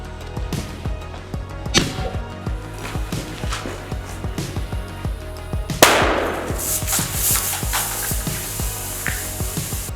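An airsoft grenade charged with Russian FL-Airsoft green gas goes off outdoors with a sudden loud burst and hissing rush, preceded by scattered clicks and knocks.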